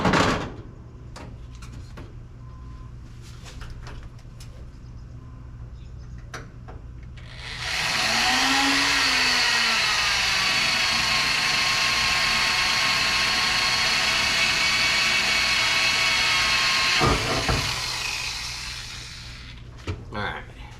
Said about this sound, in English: that gave me a little spot I need to drill. Let's drill that out.